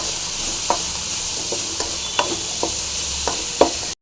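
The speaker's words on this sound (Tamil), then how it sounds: "பூண்டு அடுத்தது கொத்தமல்லி கருவேப்பிலை இதையும் சேர்த்து அப்படியே நல்லா ஃப்ரை பண்ணிக்கலாம்" Garlic, coriander and curry leaves frying in a pan for a bitter gourd pickle: a soft continuous sizzle with occasional light stirring clicks and scrapes, close and alone.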